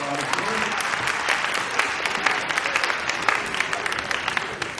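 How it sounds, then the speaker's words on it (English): An audience at a beginning band demo night gives a warm round of applause, with many distinct claps ringing out steadily at moderate loudness. "How about a big round of applause for Mr."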